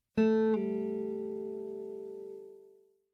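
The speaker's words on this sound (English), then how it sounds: "A lowercase p means pull off." A single plucked guitar note sounds, then quickly pulls off to a lower note that rings out clearly and fades away over a couple of seconds.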